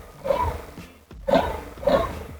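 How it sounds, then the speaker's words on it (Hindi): Three deep, throaty revs from a TVS Apache RTX 300 motorcycle exhaust in a row, each swelling and fading with short gaps between, loud and close; no talking. "ये है एग्जॉस्ट नोट, अगर सुनाई दे रही है तो."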